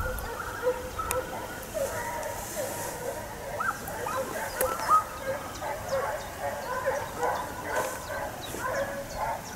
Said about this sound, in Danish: Det er hunde.